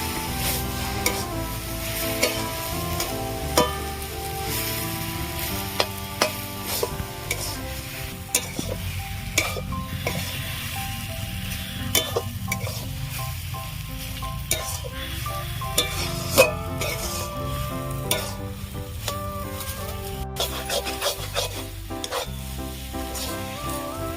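A spatula scrapes and stirs a grated potato mixture in a sizzling pan, steady frying with rhythmic clinks and scrapes throughout.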